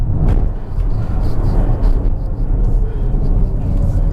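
A Volvo XC40 Recharge Twin fully electric SUV climbs a steep mountain road at Genting, giving a steady low rumble and road noise throughout, with occupants talking excitedly over it.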